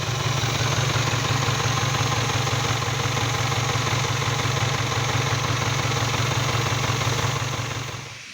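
A worn Mitsubishi Pajero engine idles with fogging smoke, a steady low rhythmic rumble and chug holding constant and close, then fading slightly at the end.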